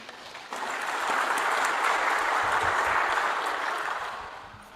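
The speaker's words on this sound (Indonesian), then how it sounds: "Tepuk tangan untuk kita semua." A large crowd at a political party declaration event in Indonesia breaks into sustained applause, swelling after a brief quiet start, holding steady and dense, then easing slightly toward the end.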